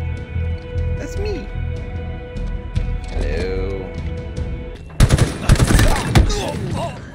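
A sudden burst of rapid gunfire in Halo, scoring a headshot, erupts loudly after a stretch of quieter game ambience and talk, crackling in several quick volleys.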